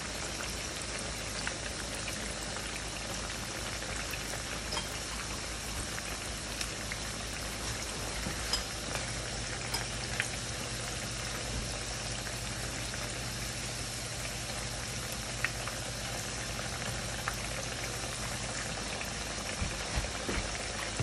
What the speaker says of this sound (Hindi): इनको मीडियम हीट के ऊपर हमने फ्राई करना है